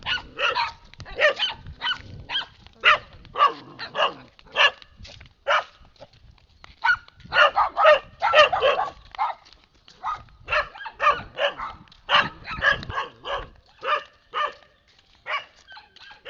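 Several dogs bark repeatedly near a river, a dense run of sharp barks and yips in bursts, some close and loud, others overlapping.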